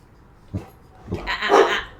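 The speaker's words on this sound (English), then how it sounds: "You might get a little bit of barking." Household dogs bark in a few short, close bursts: a single sharp yip, then a second, followed by a louder, fuller bark with a brief growl, with no talking over them.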